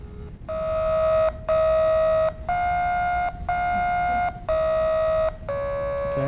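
A lullaby recovered from recorded surface vibrations plays as a string of about seven sustained, buzzy, organ-like tones with short gaps between them, clear and alone.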